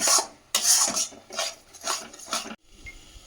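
Dried fenugreek leaves are crushed by hand and stirred into a chicken reshmi kabab butter masala curry, giving four or five close, crisp rasping scrapes in an uneven rhythm with short pauses between them and no talk.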